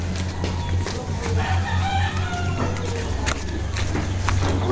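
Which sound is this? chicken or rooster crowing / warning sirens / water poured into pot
chicken or rooster crowing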